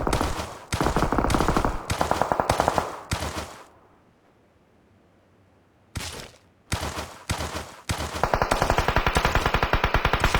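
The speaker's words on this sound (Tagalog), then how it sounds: "Binaril ka pa nga." Rapid bursts of video game gunfire rattle loudly in several automatic volleys, broken by a stretch of near silence before the shooting resumes in dense, repeated bursts.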